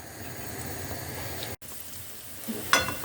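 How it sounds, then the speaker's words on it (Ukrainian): Button mushrooms sizzle and crackle in a hot pan, a continuous close frying hiss with a brief cut and a sharp clatter near the end. "Смажимо ми наші гриби печериці."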